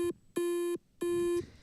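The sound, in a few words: beeping NES Golf video game soundtrack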